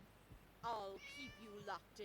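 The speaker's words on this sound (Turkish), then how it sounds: "Kedi sesi geliyor." A cat in the video game Scary Teacher 3D meows several times in short, high, tonal calls with brief pauses between them, close and clear over a quiet background.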